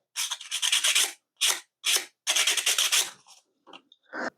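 Sandpaper rubbed by hand over a showerhead part before glue-up, heard as several short, close, raspy scraping strokes in quick bursts separated by brief pauses, with softer light rubs at the end.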